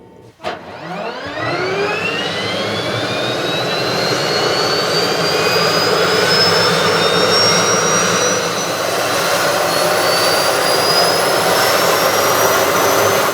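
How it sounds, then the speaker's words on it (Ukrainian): The 1500-horsepower gas turbine engine of an American mine-clearing vehicle starts with a sharp click, then winds up into a loud, continuous jet-like whine that keeps rising in pitch and holds a steady roar nearby. "Якщо ви не зрозуміли, зараз машина заведена"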